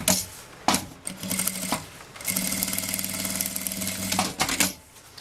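A sewing machine runs steadily stitching the zipper seam of a patterned fabric bag, in short bursts at first and then one long continuous run with a brief pause before stopping, close and clear.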